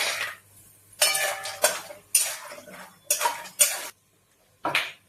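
Almonds dry-roasting in a pan for winter gum laddoos, stirred with a metal spoon in several loud clattering scrapes against the pan, separated by brief pauses, close and with no talking.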